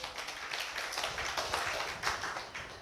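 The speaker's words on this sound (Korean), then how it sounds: "박수." A church congregation clapping together in a steady, dense patter of many hands, filling the room evenly without a break.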